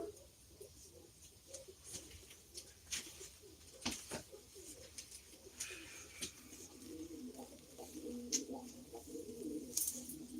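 Pigeons coo softly in a low, repeated, murmuring pattern, faint and somewhat distant, with occasional small clicks and rustles around them.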